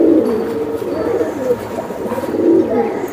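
Two male pigeons coo close by in a steady, overlapping series of low, throaty calls, with no talking.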